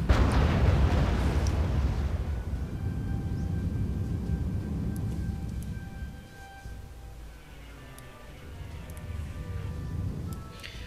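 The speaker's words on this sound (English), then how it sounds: "He's basically bombarding targets here" Artillery bombardment in the R.U.S.E. strategy game: a deep, sustained rumble of explosions that starts loud, eases off slightly, then continues with scattered faint pops and crackles.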